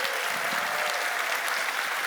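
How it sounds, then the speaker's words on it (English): Audience in Eindhoven clapping at a corporate manufacturing forum, a steady, even wash of applause lasting a couple of seconds with no speech over it. "An applause from Eindhoven to you."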